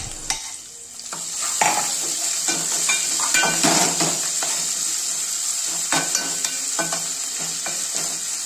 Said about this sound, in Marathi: ती व्यवस्थित अशी तेलामध्ये परतून घ्यायची आहे